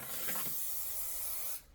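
A steady aerosol hiss of sealing spray misted onto paper, lasting about a second and a half at moderate level, then cutting off abruptly into quiet.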